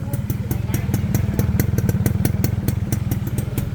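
A small two-stroke 1990s-era motorcycle engine idles nearby with a rapid, crisp popping beat, steady and loud, with a voice briefly speaking over it.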